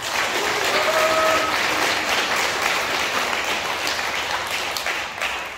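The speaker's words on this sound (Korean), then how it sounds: "다시 한번 박수로 모시겠습니다." Warm, sustained applause fills a Catholic church hall during a parish retreat concert, a dense wash of clapping from the congregation that stays loud throughout and eases slightly near the end.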